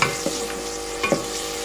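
Tomatoes fry in a pan for shahi korma, a steady sizzle with a couple of brief stirring scrapes, close and alone with no talk.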